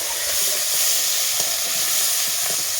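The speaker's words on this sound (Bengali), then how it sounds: "দিয়ে আমি পেঁয়াজটাকে দিয়ে দিচ্ছি। আর পেঁয়াজটা ভালোভাবে ভেজে নিতে হবে।" Sliced onions dropped into hot oil with a pinch of salt in a pan, frying for a Bengali mustard puti fish gravy: a loud, dense, continuous sizzle and hiss close up, with no talking.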